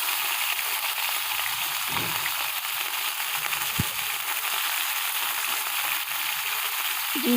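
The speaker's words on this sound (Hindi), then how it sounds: "मैंने इसको शैलो फ्राई किया है।" Tawa kebabs shallow frying in oil in a pan, a loud, continuous close sizzle with a few faint clinks and stirring touches beneath, no voices.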